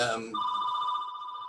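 A telephone rings with a steady, loud electronic tone that cuts in just after a voice and holds to the end.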